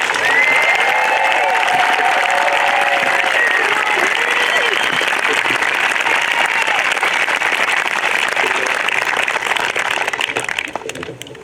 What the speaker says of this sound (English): Please join me in congratulatory round of applause for the remarkable class of 2026.